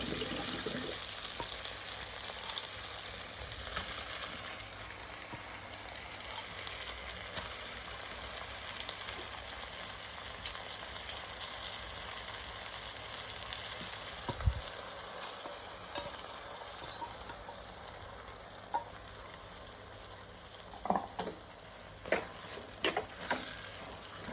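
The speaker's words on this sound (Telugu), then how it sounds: "తర్వాత మనం ముందుగానే నానబెట్టుకున్న పెసరపప్పు కూడా వేసేసి కాసేపు లైట్గా ఫ్రై చేద్దాము" Soaked moong dal fries gently in a pan with a soft, continuous sizzle and a few sharp clicks from stirring near the end. No one speaks.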